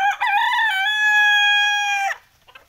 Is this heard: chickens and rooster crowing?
yes